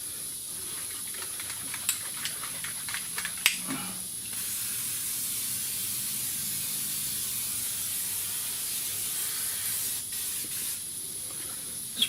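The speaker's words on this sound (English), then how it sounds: "Spray the crap out of it, fluid film." Fluid Film aerosol sprayed onto a GMC Sierra front wheel bearing, a steady close hiss running for several seconds after a few small clicks and taps.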